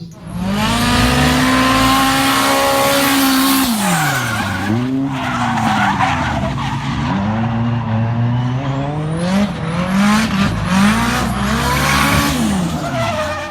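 A loud turbocharged car engine revs hard for about thirteen seconds, pitch sweeping up and down through several throttle blips and swells with a gritty, raspy edge close by.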